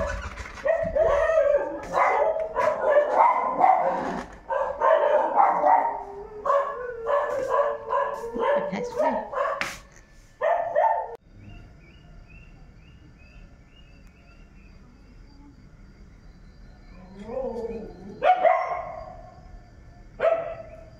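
Several dogs bark loudly and rapidly together for about ten seconds, then fall quiet, followed by a few isolated yips and barks in a calm outdoor setting.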